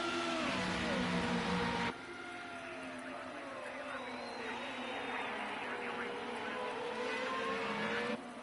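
Formula Renault open-wheel race car engines from the racing game Project Cars 2 at the Red Bull Ring in Austria, a steady high-pitched whine shifting in pitch as cars run together, with a louder stretch at the start.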